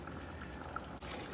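Water is poured into a pot of chicken curry as a brief, quiet, steady trickling stream, close by with no speech.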